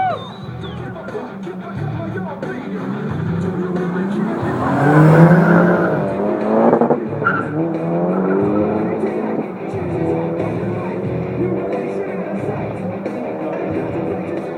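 A Volkswagen Scirocco and an Infiniti G35X launch off the line in a drag race. Loud engine roar builds toward a peak mid-way, then stays steady, with a voice talking over it.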